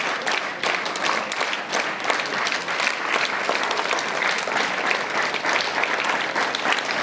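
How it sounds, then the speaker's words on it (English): A group of students clapping together at a school assembly, a dense, steady wash of many hands at moderate distance, continuous for several seconds with no talking over it. "Clap. Together, everyone."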